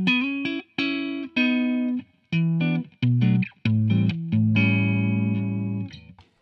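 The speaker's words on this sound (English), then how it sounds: "So your neck pickup will sound like this." A 2017 Gibson Gary Clark Jr signature SG electric guitar played through its neck pickup. It gives short phrases of sustained single notes and double stops with gaps between them, clear and upfront with no talking.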